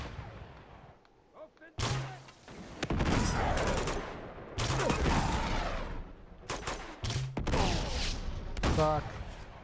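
Bursts of weapon fire in Uncharted 2, loud repeated gunshots and rattling volleys in clusters separated by short gaps, with someone talking excitedly over parts of the action.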